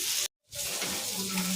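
Fish fries in a pan with a close, steady sizzle and hiss, briefly cut off by a moment of silence before the sizzling resumes.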